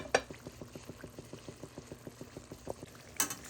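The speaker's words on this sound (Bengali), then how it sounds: "লবণ এবং মটরশুঁটি দিয়ে ডালটাকে অনবরত একটু নাড়তে হবে" Mung dal with salt and peas stirred in a pan, heard as an even, regular ticking rhythm of the spoon about four times a second. It is soft and close, with a louder clink at the start and near the end.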